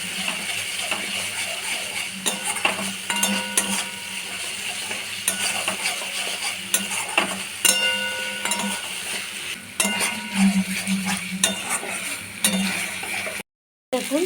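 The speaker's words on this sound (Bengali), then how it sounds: "দিয়ে ভালো করে কষে নেব।" Masala and chopped capsicum are sautéed in a pan, giving a soft, steady sizzle under frequent metallic scraping and clinks of a spoon against the metal, with no voices.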